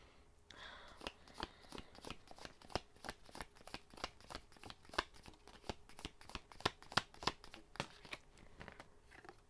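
Oracle cards are shuffled by hand in quick, crisp riffles, a rapid series of dry snapping flicks, close and fairly quiet, with no one talking.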